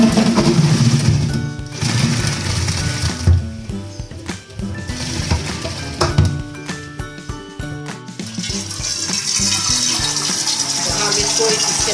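Boiled lasora water drains from a pot through a perforated colander, pouring and gushing loudly and close with splashing bursts, pausing briefly, then running on as a steady stream.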